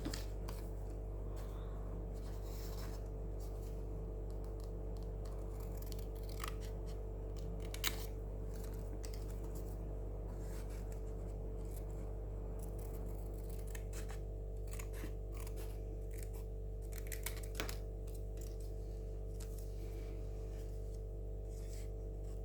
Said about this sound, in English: And then all there is left to do is to come in and cut those